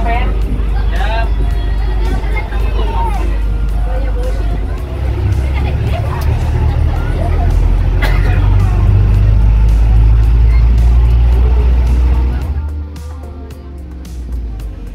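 A free Macitos city tour bus rolls through Malang with a deep, steady engine rumble, while passengers chatter loudly throughout.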